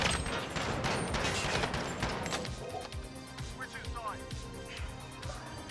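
Gunfire from a weapon in a video game, with rapid shots early that thin into scattered reports later, mixed with game effects while players talk over it.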